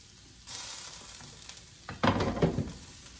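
Onions sizzle in a pan while being cooked down for chili, a soft steady frying hiss with louder stirring scrapes and clatters near the end.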